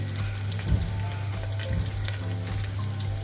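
Rice semolina and ginger roast in a pan for upma, giving a soft, steady sizzle over a low hum, with a couple of faint stirring scrapes and no talk.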